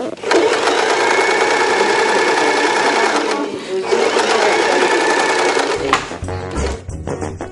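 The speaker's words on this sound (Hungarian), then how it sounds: "Nem hagyják sokat pihenni az új varrógépüket az Algyői Foltvarrók körének tagjai" Loud new sewing machine of a patchwork quilting circle in Algyő, Hungary, running in long steady whirring stitching bursts with a brief slowdown near the middle and stop-start stitches at the end, no talk.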